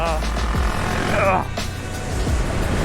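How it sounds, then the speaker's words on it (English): A 500cc motorcycle engine is accelerated hard at full throttle, a loud, close, continuous droning roar that rises and falls slightly while wind noise rushes past the rider. "Just grabbing fistfuls of throttle."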